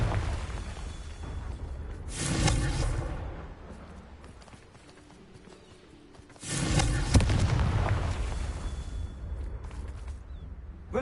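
Confringo fire spell explosions in Hogwarts Legacy: two loud, roaring bursts several seconds apart, each swelling and fading into rumble over low background ambience.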